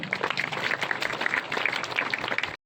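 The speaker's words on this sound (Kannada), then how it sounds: "ಅವರಿಗೂ ಕೂಡ ಜೋರಾದ ಚಪ್ಪಾಳೆ" Audience at a school talent-competition prize announcement breaks into dense, continuous clapping, loud and sustained for over two seconds before stopping abruptly.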